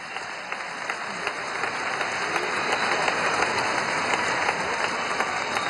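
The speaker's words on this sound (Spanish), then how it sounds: "Un aplauso a los compañeros de Cacique Maracay." A large crowd at a workers' council event in the Poliedro arena gives sustained applause: dense, steady clapping that fills the hall with no break.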